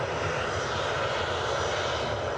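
Steady, loud roar of a Boeing jet's engines at an airport, a broad continuous rushing drone with no pauses or voices.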